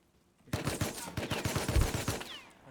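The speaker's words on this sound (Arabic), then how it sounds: "صلاح يطلق علي." Bursts of rapid gunfire ring out in an online shooter match on an Arabic server. The shots come in quick, uneven volleys that are loud and close, with no talk over them.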